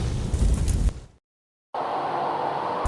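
An explosion in a fire-emergency XR training scenario makes a loud, booming rumble for about a second, then cuts to silence before a steady broadband roar resumes.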